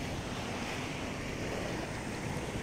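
Ocean waves surge and wash steadily in a continuous, close, full-bodied roar with some wind noise, forming a calm backdrop for a guided meditation, with no voice present.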